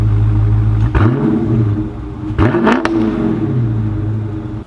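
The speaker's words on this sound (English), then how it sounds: "I'll give you guys one more rev" Engine of a car near a Ford Raptor truck, idling with a steady low rumble, then revved twice in sharp bursts, the second rise longer and rougher before settling back to idle.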